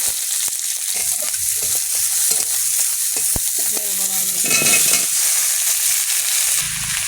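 Five-spice seeds, chopped onion and green chilli sizzle loudly in a hot wok, a steady bright frying hiss with scattered spatters and scraping stirs. No voices.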